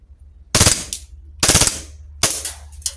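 A WE Glock 26 airsoft gas pistol fires three loud full-auto bursts, each a sharp rapid rattle lasting a fraction of a second, separated by short pauses, with no talking.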